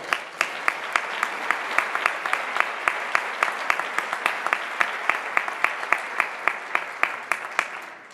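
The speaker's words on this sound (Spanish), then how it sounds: "Un aplauso para ellas." An audience at a Lent concert in Socuéllamos applauds a band, a steady sustained wash of clapping punctuated by regular sharp individual claps, moderately loud throughout.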